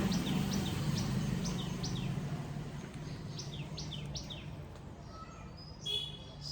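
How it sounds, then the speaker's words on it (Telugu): Small birds chirp outdoors in the early morning, sharp repeated tweets arriving in quick bursts from a moderate distance over a low background hum. "మస్తు సౌండ్ చేస్తున్నాయి పిట్టలు అయితే"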